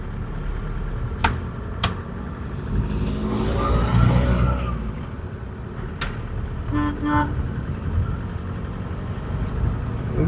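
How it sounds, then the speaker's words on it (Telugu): A used car driving along a road gives a steady broadband engine and road rumble throughout, marked by a few sharp clicks and a short horn-like tone partway through. "వెహికల్ రన్నింగ్ అయితే చాలా బాగుందండి."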